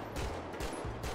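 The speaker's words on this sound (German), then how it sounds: "manche Schüsse gehen einfach durch" Gunfire in GTA 5, a game mode with Sonic: several loud bursts of shots in quick succession, broadband and punchy, with brief gaps between volleys and no talking.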